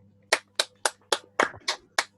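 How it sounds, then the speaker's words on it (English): Seven sharp, evenly spaced claps from a single person in an online lecture session, close to the microphone and alone, with a faint steady hum underneath. "let's give a big applaud to a wonderful and insightful talk"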